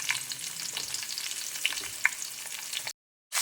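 Onions sauté in oil for vegetable pulao, a close, bright crackling sizzle with spatula stirs and small pops, cut off abruptly by a moment of silence before the frying sound resumes.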